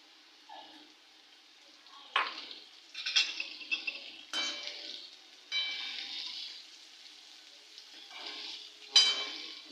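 Onions fry in a pan with a soft sizzle while a spoon scrapes and clinks against the metal in irregular bursts of stirring, close and moderately loud.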